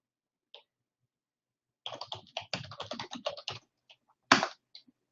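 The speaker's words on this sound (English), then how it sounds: "Let me type in a website here." A web address is typed on a computer keyboard. The keys click in a quick, close burst lasting a couple of seconds, set among a few isolated taps and ending with one louder key strike.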